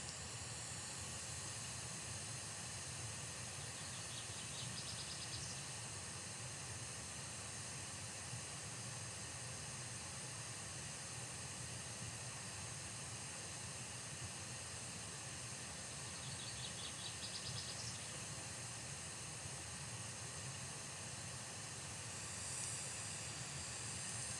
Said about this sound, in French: vous aider du bruit blanc que je viens d'activer grâce à mon téléphone